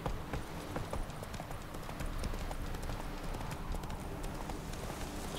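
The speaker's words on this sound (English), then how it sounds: "Run, Roach" A horse gallops in The Witcher 3: Wild Hunt, its hooves making rapid, continuous clip-clop beats at a steady, close volume with no voices over it.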